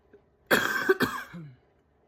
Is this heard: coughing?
yes